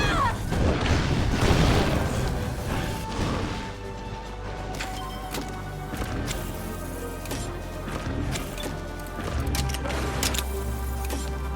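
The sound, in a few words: grenade headbutt explosion in Monster Hunter Stories video game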